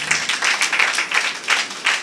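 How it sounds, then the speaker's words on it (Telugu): A church congregation clapping loudly together, a dense burst of hand claps in a rough rhythm that continues steadily, close and full. "చప్పట్లు కొట్టండి బిగ్గరగా ఒకసారి"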